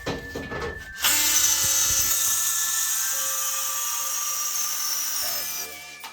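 A DeWalt 12V cordless oscillating multi tool saws through aluminum stock clamped in a vise, its steady high-pitched buzzing whine starting after a second of handling noise and running continuously for about four seconds before stopping.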